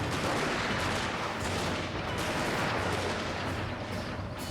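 Dense, continuous musket and artillery gunfire from a Shogun 2: Fall of the Samurai battle, a steady roar of overlapping shots with no gaps and no voices.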